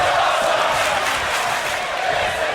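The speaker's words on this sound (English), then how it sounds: "And the crowd loving it here tonight" A wrestling crowd cheers and roars continuously at a live show, a dense, steady wall of voices with whoops and shouts rising throughout.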